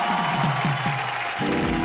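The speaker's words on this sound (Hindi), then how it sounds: "जोरदार तालियां।" A television variety show audience claps after a live song performance. Dense applause fills the brief moment, with a voice speaking over the end.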